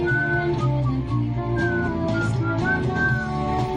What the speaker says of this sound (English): he's just whistling along